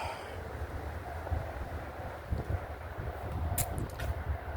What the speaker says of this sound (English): it just seems like the wind keeps getting blowing harder and harder